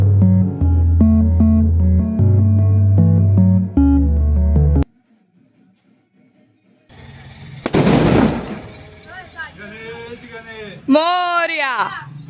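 Firecrackers bursting outdoors at a Ganpati festival celebration, a loud sharp blast followed by crackling pops, after a stretch of loud music and a quiet gap, with people talking and calling out around them.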